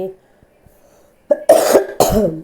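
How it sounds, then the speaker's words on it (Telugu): After a quiet moment, someone coughs sharply three times in quick succession, close and loud. "మాట్లాడుతున్నా కూడా దగ్గు వస్తుంది"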